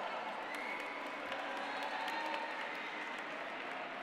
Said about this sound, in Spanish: Otro fuerte aplauso.